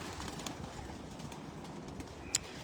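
Pigeons kept by a fancier coo faintly in their loft, soft low calls over a quiet background with a brief sharp sound near the end.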